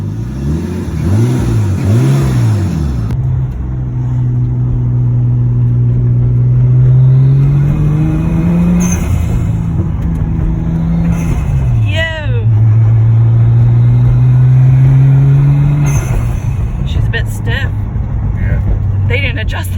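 A Nissan R34 Skyline engine starts and revs, rising and falling through several throttle blips with a steady idle between, close and loud, with people talking over it.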